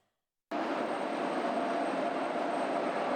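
A passenger train rumbles into Kyiv railway station, a loud, steady, broadband roar of wheels and cars that starts abruptly and continues unbroken at close range.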